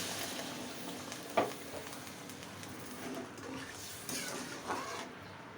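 Water is poured into a pan of frying masala with fried potatoes for a river pangas fish and potato curry, giving a steady broad sizzle with a few sharp clicks and splashes and no talk.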